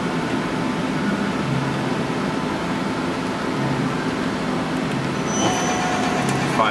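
The spindle of a Daewoo Puma 10HC CNC lathe runs with a steady, rumbling mechanical drone that holds throughout, with a faint rise in the higher tones near the end.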